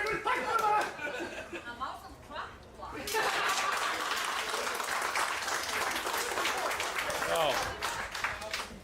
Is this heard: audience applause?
yes